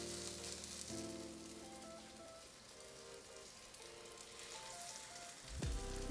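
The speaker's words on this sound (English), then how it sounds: "So I think the oil's warm enough. I'll be able to cook 3 at a time." Vegan Salisbury steak patties frying in warm oil, a faint continuous crackling sizzle under soft background tones, ending in a brief close clatter.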